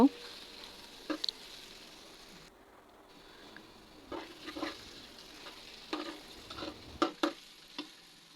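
Chopped onions frying in soybean oil in a pan, a faint steady sizzle broken by scattered light clicks and scrapes of stirring.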